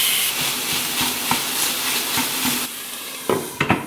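Vegetables frying in a hot pan give off a steady, loud broadband sizzle that softens after a few seconds, followed by a couple of sharp clinks near the end.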